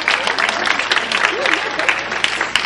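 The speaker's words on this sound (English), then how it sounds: "You can clap for them." An audience in a hall applauds steadily at a college recognition event, a dense patter of clapping hands, with a few voices murmuring underneath.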